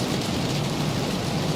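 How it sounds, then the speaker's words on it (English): Rain pelting an aircraft in a flight simulator game, a steady, dense hiss of drops with a low rumble underneath, even and continuous. "I can hear the rain pelting the aircraft"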